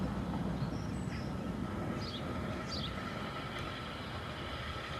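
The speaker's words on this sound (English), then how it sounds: "The M7 approaches the station on a works train." An LSWR M7 steam locomotive approaches Corfe Castle station on a works train, giving a steady, continuous rumble with a few faint high chirps above it and no speech.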